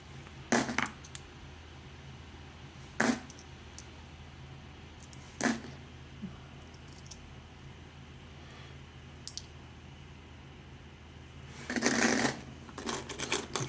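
Australian 10 cent coins clink and jingle as they are handled and sorted, in a few sharp separate bursts and then a longer cluster of rattling metal near the end, against a quiet room.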